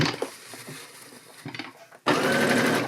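Sewing machine stitching a parka sleeve: soft handling rustles and brief taps, then a loud, fast, steady run of stitching near the end.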